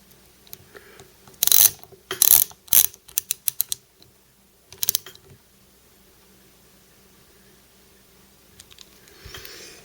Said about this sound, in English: put the washer in first, and then put the nut on top, and then crank it down